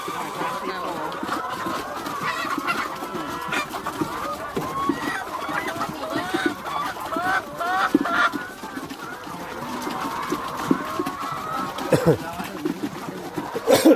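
Chickens cluck and crow at an egg farm on the Lao side of the border, a busy flock sounding throughout at moderate distance, mixed with steady talk from people nearby.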